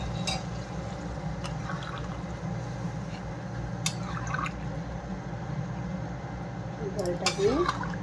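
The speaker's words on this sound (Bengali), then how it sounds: "আর একটু জল দিয়ে দিই।" Water poured into a pot of simmering light chicken curry, a brief liquid splash and clatter near the end over a steady cooking hiss and low hum.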